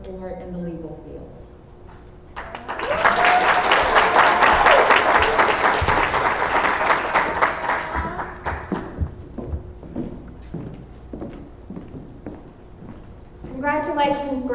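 Audience at an adult education graduation ceremony breaks into loud applause that swells quickly, holds for several seconds, then thins into scattered claps as talk resumes.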